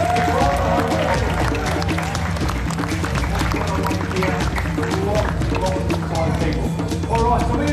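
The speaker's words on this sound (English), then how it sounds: "how about we start things off right now, though, with a nice big round of applause." An outdoor crowd claps loudly and steadily at a tiger show at a Gold Coast wildlife park in Australia, with dense applause filling the whole stretch without pause.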